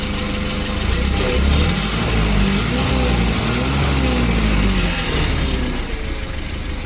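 A cold petrol engine of a Mitsubishi FG20 two-ton forklift idles steadily and fairly loudly, a continuous low rumble with a slightly rough, uneven hum throughout and no talking.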